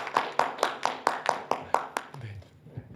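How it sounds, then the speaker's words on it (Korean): Hands clap for a professor at a lecture pavilion event: about eight sharp, evenly spaced claps in quick rhythm that stop abruptly, followed by a low murmur. "우리 김재경 교수님께 따뜻한 박수로"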